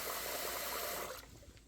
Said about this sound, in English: And I'm just going to give it a little stir.